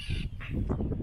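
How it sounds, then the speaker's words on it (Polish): Seagull on an Arctic island giving a harsh, close squawking call in a brief loud burst. "Widzialna jest ta mewa, która chce mnie ugryźć."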